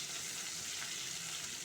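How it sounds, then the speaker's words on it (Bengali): Potatoes frying in a covered wok over a low gas flame, a steady, soft, continuous sizzle with no voices. "আলুটা অল্প বিস্তর ভাজা হয়েছে।"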